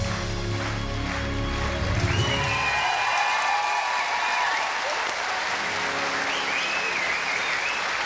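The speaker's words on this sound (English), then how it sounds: "Get that huge reaction from the crowds here." A large crowd at a Grand Prix freestyle dressage show applauds loudly and continuously after a horse-and-rider performance, with sustained clapping under faint music and a commentator's voice.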